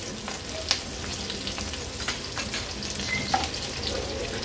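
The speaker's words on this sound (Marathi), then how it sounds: "फोडणी व्यवस्थित मिक्स करून घ्यायची। मिरचीचा कलर थोडासा म्हणजे आपला तळल्यासारखा झाला" Chillies fry in hot oil for a phodni tempering while a spoon stirs, giving a soft, steady sizzle with light clinks, close by and free of talk.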